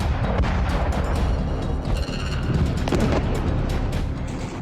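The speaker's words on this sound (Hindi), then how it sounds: "बम की बरसात थम नहीं रही है। लगातार धमाके हो रहे हैं" Bomb explosions in Gaza during an air strike, dense rumbling booms and bursts rolling together continuously, loud and close without any speech.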